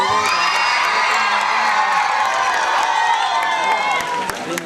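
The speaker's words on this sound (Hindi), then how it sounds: "हमारे स्टूडेंट्स के लिए एक बार तालियां हो जाए" An audience at a school's annual celebration claps and cheers for students, a loud sustained wash of applause mixed with whoops and children's shouts, held evenly across the clip.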